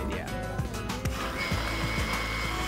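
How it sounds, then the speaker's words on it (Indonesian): An electric blender runs steadily, blending 200 grams of strawberries with cream for a chocolate strawberry mousse, its loud, dense whirring motor continuous throughout with small shifts in pitch as the fruit churns. "Sekarang waktunya untuk saya blender."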